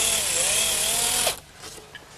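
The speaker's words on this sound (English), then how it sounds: "I'm taking the precaution of pre-drilling the holes." A power drill bores pilot holes for soft brass hinge screws in wood while building a Shaker wall clock, giving a steady high whine that winds down and stops abruptly partway through.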